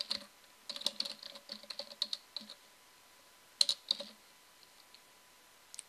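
Computer mouse clicking while a web homepage is set up, a run of quick, close dry clicks in short bursts with a pause in the middle and a few more at the end.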